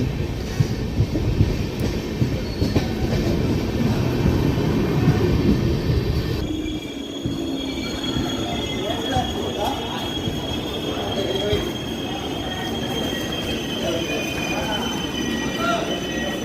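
The 17329 Express rolls along the rails with a heavy, continuous rumble heard from inside the train, and steady high wheel squeal and tones rise over the clatter partway through.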